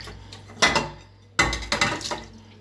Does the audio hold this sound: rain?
no